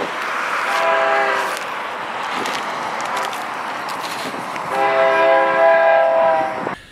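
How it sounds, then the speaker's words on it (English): A train passes at a distance, with a continuous rumble of rolling cars under two long, loud blasts of its multi-tone horn, one early and one near the end. "There's a train across the way."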